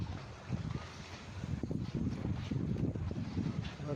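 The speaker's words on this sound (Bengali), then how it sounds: "স্পিড বোট চলে আসছে।" A speedboat approaches a resort jetty in the Maldives, heard as a low engine rumble mixed with wind buffeting and water noise, faint and distant, with no voices.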